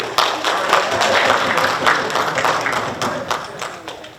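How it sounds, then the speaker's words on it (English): Light, polite golf claps come from a small audience at a convention panel, a brief scattered patter of hands lasting a few seconds. "golf claps"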